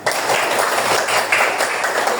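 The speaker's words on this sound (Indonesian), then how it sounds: "Tepuk tangan untuk kalian semua" Students in a classroom applaud together, a dense, steady burst of many hands clapping at close range that holds evenly for a couple of seconds with no talk over it.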